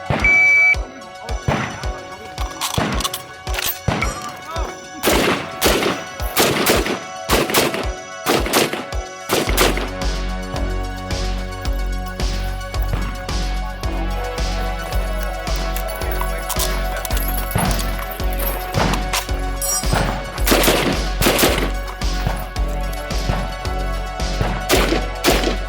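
Gunshots from a Yugoslavian SKS rifle on a timed course of fire, a rapid string of loud, sharp cracks close by, then a denser stretch of continued firing with ringing tones over steady background noise.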